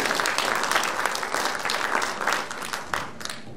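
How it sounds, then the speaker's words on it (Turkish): Steady applause from an audience, dense and sustained throughout with no voices over it. "Alkışlarla Sayın Dilara Altınok'u davet ediyoruz."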